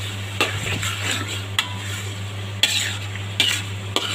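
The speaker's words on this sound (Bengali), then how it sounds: "আমি আচারটাকে ভালো করে অনবরত নাড়া দিচ্ছি, তার নিচে যাতে না লেগে যায়" Raw mango pickle is stirred continuously in a pan over a low sizzle, with several sharp clinks and scrapes of a spoon against the metal, close up and without talk.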